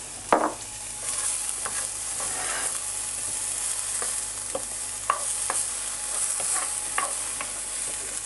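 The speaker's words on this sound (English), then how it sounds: "put that in the pan and saute one large brown onion" A large brown onion sautés over medium heat in a pan sprayed with extra virgin olive oil, giving a steady close sizzle broken by occasional soft scraping stirs.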